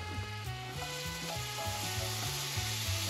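Green onions dropped into sizzling butter in a hot pan after deglazing, giving a steady, close frying hiss. Stirring pulses repeat roughly every half second against a low rhythmic musical backing.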